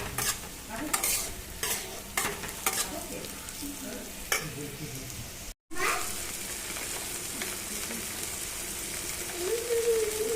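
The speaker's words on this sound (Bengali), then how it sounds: "এদিকে এটা প্রায় ভাজা হয়ে এসছে।" Rice and vegetables sizzle steadily in a hot frying pan while being stirred for homemade fried rice. The frying is close and continuous, with a sharp clatter of stirring, then a brief silent gap before it resumes.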